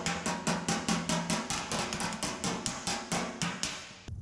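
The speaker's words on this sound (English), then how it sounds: "I'm using this dolly, trying to get it right on the center of the dent and hammer around the edges." A hammer strikes a metal car fender dent backed by a dolly, sharp ringing blows repeated rapidly and evenly, about four per second, loud and close with no speech.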